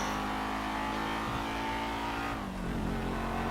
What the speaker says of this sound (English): the Rapid GT sounds like a pit bull